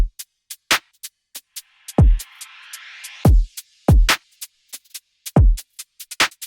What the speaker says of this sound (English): As you can see, I have a drum loop pulled up and it sounds like this.